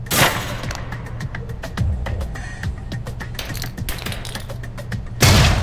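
Grenades thrown and exploding in the video game Alpha Protocol, a burst at the start and a louder one at the end framing a rapid rattle of sharp cracks and thuds.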